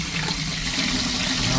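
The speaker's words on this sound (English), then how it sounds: "push the button and the toilet will flush" Toilet flushed by a push-button timer circuit during a plane project plumbing and wiring build, giving a steady, close rush of flowing water that runs the whole time without pause.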